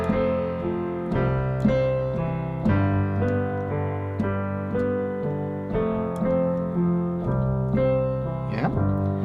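Piano playing a right-hand chord pattern in middle, top, bottom order over held bass notes, a steady rolling figure of repeated chords that changes harmony every couple of seconds, moderately loud with no talking.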